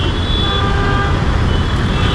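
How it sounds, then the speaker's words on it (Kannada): Bus horn notes sound over steady road traffic, a sustained honk carrying above the engine rumble and general street noise, behind a stalled Mahindra BE 6e electric car. "ಹಿಂದ್ಗಡೆಯಿಂದ ರಾಜಹಂಸ ಬೇರೆ ಹಾರನ್ ಮೇಲೆ ಹಾರನ್ ಹೊಡೆದು ಸೈಡ್ ಕೇಳ್ತಾ ಇದ್ದಾರೆ"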